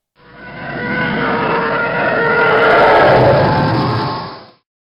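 The original Star Wars TIE Fighter sound effect: a single loud, roaring screech that swells for about four seconds with a shrill, animal-like edge, then cuts off abruptly.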